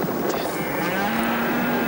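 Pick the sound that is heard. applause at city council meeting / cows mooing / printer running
cows mooing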